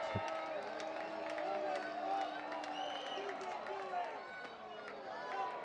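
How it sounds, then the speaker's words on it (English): A baseball crowd roars and cheers at the Diamond stadium during a full count, a dense, steady wash of many voices with scattered whistles and shouts, while a commentator talks over it. "The crowd is roaring here at the Diamond."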